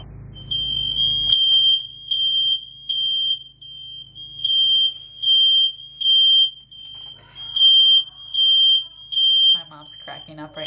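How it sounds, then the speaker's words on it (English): A smoke detector beeps loudly and close in a home, sounding a steady pattern of repeated shrill tones. A voice speaks briefly near the end. "the fire alarm's going off or the smoke detectors"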